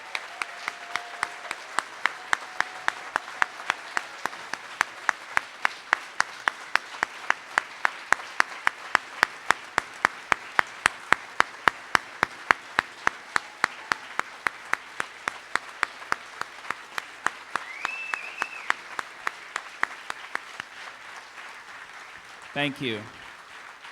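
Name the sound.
audience applause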